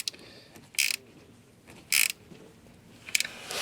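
Ratchet cranking a 10 mm car battery terminal nut tight, with three short bright clicking bursts spaced apart over a low background hum, close up and with no talking.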